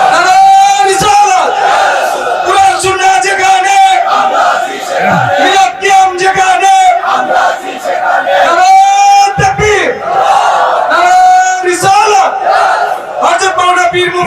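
A large gathering at a Bengali Islamic waz sermon roars back in unison after a takbir call, loud rhythmic massed chanting in repeated swelling waves that fill the space, with brief dips between phrases.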